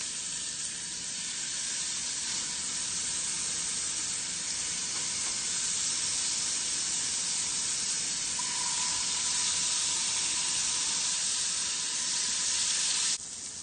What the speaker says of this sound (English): So after searing the one side for a couple minutes, you're going to flip your shrimp